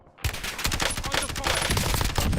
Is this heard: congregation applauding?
no